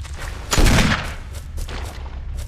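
Gunfire in the video game Resident Evil HD: a single loud, sharp gun blast bursts out midway, followed by fainter game sounds.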